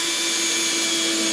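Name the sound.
power drill driving drywall screws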